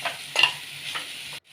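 Shredded cabbage curry sizzles in hot oil in a pan while being stirred, giving soft scraping strokes over a steady close crackle that stops abruptly.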